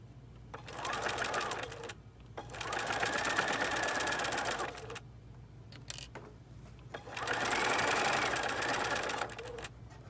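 A sewing machine top stitching fabric runs in three steady bursts of fast mechanical whirring, separated by short pauses, with a faint low hum underneath.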